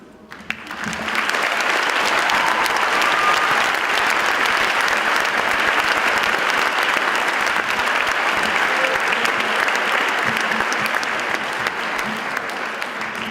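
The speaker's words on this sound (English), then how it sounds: "Hey, how about we give these name readers a big round of applause?" Sustained, dense audience applause fills a large room at a high school honors ceremony, a steady loud roar of many hands clapping for over ten seconds with a faint murmur of voices beneath.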